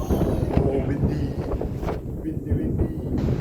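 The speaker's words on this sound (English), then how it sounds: "Ooh, it's windy. It's too windy for the fireworks." Strong wind buffets the microphone at a National Day fireworks display, gusty rumbling roar throughout with people talking over it.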